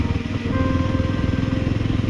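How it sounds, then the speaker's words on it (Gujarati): A motorcycle engine idles nearby with a steady, low, rapidly pulsing rumble that holds an even rhythm throughout. "આ બાઇક લઈને જવાનું છે આપણે આજે."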